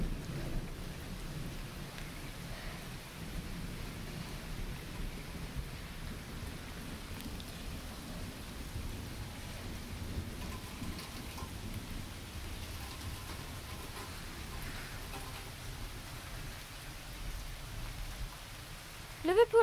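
Steady rain falls in a continuous hiss with a low rumble of thunder beneath it, fairly faint and unbroken throughout, with a faint voice in the background.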